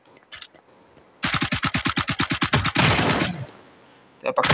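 Gunfire in the Hyper Front video game: a rapid, evenly spaced burst of about fifteen loud shots runs straight into a denser, sustained roar of fire, then stops, with a brief few shots at the end.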